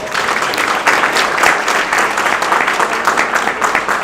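An audience at an RRS graduation ceremony in Pitt County breaks into loud, sustained applause, a dense wash of many hands clapping at once that stays strong throughout.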